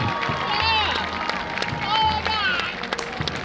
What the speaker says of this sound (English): Can we please have a round of applause for the 2021 Homecoming Court?